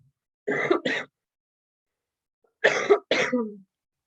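A person coughs in two separate bouts, each a pair of sharp, throaty coughs, close and clear in an otherwise silent room.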